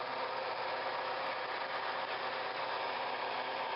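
A 1994 John Deere 670B motor grader with a new engine idles in a steady, even rumble that holds without change throughout, close by, with no talking.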